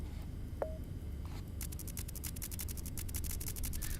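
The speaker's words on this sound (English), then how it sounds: "Phone." A phone in the horror game Dead Signal gives a short tone early on, then a run of rapid, evenly spaced electronic clicks or pulses that continues to the end, fairly faint over a low background hum.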